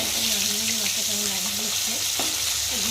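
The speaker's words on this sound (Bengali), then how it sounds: "ভাজা হচ্ছে বন্ধুরা মাছগুলো" Fish sizzle and crackle in hot oil, a continuous bright frying hiss with faint stirring, close by and steady.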